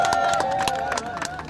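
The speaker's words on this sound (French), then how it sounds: "je pense qu'elle a quand même droit à un applaudissement quand même" Audience applause at a live product launch event, a short burst of scattered clapping and crowd noise over a steady tonal background, moderately close.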